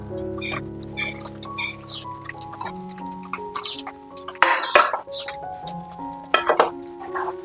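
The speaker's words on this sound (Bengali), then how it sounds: "এবার আমি এর মধ্যে ভেজে রাখা ময়দার বলগুলোকে দিয়ে দিচ্ছি।" Fried flour balls are dropped into a simmering potato curry in a pot, giving soft wet plops and splashes, light clinks of a utensil against the pot, and a few louder bursts of stirring over a quiet kitchen hum.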